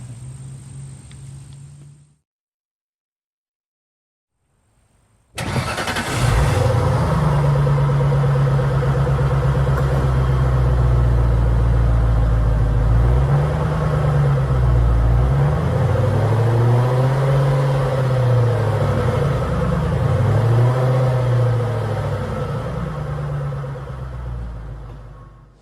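A 2004 Ford Thunderbird convertible's engine cranks and catches after a short silence, then settles into a loud, steady idle with slight rises and dips in pitch, heard up close with no talking.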